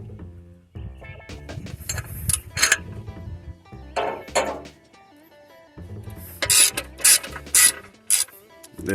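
Wrench ratcheting on a stuck bolt on a Detroit 60 Series engine, with repeated clicking ratchet strokes and metallic clanks coming in close, irregular bursts with brief pauses between them.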